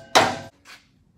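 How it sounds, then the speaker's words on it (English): A hammer strikes the exhaust pipe of a NASCAR Winston Cup car once with a sharp, loud clank, followed by a fainter second tap, close by in a quiet shop. "we'll probably need to bump it back with a hammer"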